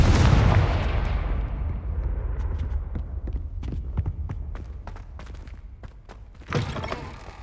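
Confringo blasting spells explode in a Harry Potter video game: a loud, booming blast opens, then a rapid string of sharp cracking bursts and thuds rolls over a rumbling battle background, ending in one more heavy burst near the close.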